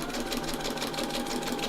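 Sewing machine stitching along the edge of a laminator pouch's acetate sheet, a steady, fast, close mechanical whirr with rapid needle rhythm and no pauses.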